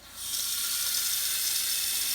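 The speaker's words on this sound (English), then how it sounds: "Turn on the hot water" Hot water gushes from a kitchen faucet into a sink with a garbage disposal, a close, steady hiss that switches on abruptly and keeps running evenly.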